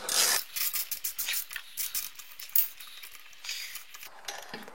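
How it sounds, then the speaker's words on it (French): Close, quiet scraping and rubbing while a spark plug is unscrewed from the engine of a 30-year-old Mobylette moped, in short gritty strokes with a sharp metallic tick near the middle. "dévisser la bougie."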